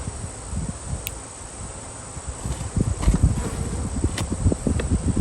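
A steady buzz of many honey bees around a hive hums throughout, with brief louder swells toward the end, close and continuous.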